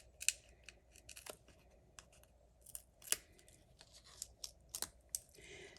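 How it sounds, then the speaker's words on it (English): Sharp scissors snip twine short while finishing a Stampin' Up! paper card project, giving a series of crisp, close cuts at irregular intervals, with light paper rustling between them and no talking. "So now I'm just gonna cut these short so you can't see them from the top."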